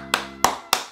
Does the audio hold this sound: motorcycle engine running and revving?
no